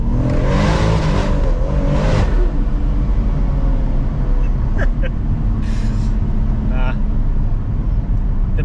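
A 580 bhp BMW M140i pulls hard in first gear, its engine roaring loudly from inside the cabin for a couple of seconds before settling into a steady lower drone with road noise and a few clicks.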